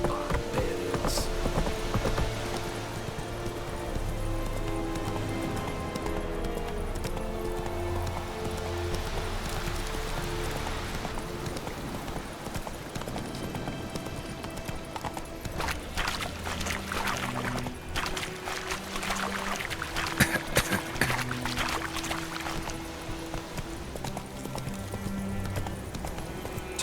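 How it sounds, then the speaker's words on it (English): In The Witcher 3 game, the horse Roach moves along with rhythmic clip-clopping hooves, steady and continuous for the whole stretch, mixed with background game sounds and occasional rustling bursts. "Whoa there, Roach. Come on, Roach"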